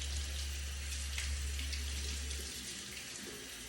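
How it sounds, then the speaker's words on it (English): Warm tap water runs steadily from a faucet into a sink while a clay mask is being rinsed off, a close, continuous splashing stream that softens slightly near the end, with no talking. "So warm water."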